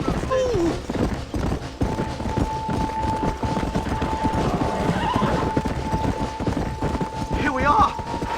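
In the Red Dead Redemption game a horse gallops with rapid rhythmic hoofbeats on dirt, and a sharp whinny rises near the end, over wind and ambient game music.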